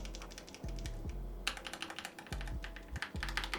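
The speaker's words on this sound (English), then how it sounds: "For typing, Corsair's pre-lubed MLX Pulse linear switches feel smooth and satisfyingly" Keystrokes on a Corsair Galleon 100 SD keyboard with pre-lubed MLX Pulse linear switches and double-shot PBT keycaps, close and muted, landing as soft low thuds in irregular bursts of quick typing.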